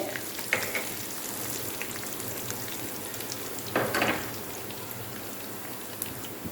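Curry leaves drop into hot oil with onions just turning light brown, giving a steady crackling sizzle throughout with a sharper burst of spitting near the middle, no voices.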